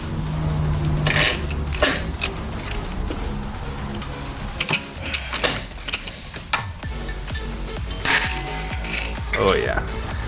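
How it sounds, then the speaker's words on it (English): A rivet gun sets rivets during a Corvette Z06 body repair, with a run of harsh metallic clanks, ratcheting snaps and mechanical pops at close range. "Hope my rivet gun is strong enough."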